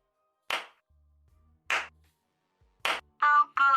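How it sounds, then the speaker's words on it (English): A slow clap sound effect on a Twitch stream: three separate claps spaced about a second apart, crisp and isolated against near silence, followed by short bright tonal blips. "My slow clap processor made it into this thing."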